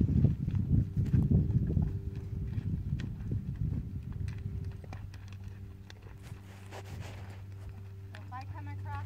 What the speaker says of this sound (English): my horse is going to start slowing down here